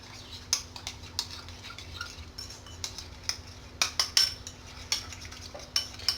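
A utensil stirs potato water and lemon juice in a bowl, giving faint, irregular ticks and clinks against the sides over a quiet background hum, with no one talking.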